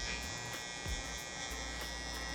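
An electric hair trimmer fitted with a shorter tooth buzzes steadily while cutting hair, a constant close electric drone with slight shifts in pitch as it moves through the hair.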